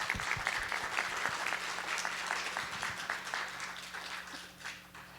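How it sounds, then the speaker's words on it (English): Audience applause after a talk on racial steering by large language models, a steady wash of many hands clapping at moderate distance that thins out and fades toward the end, with faint voices mixed in. "let's give Eric another round of applause"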